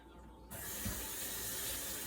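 Tap water suddenly starts gushing into a kitchen sink during mushroom prep, a steady close splashing hiss that continues evenly after it begins.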